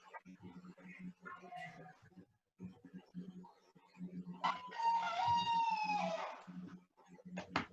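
An old rooster lets out one loud, drawn-out crow lasting a couple of seconds, while people talk before and after it.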